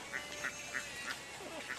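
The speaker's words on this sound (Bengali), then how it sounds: "চারিদিক হাঁস" Ducks quack near a village pond in open farmland, about five short, fairly faint calls spaced at a loose, regular rhythm over quiet outdoor background.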